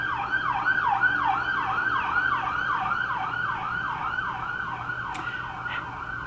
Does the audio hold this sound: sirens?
yes